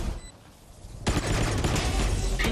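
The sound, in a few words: gunfire from the video game Valorant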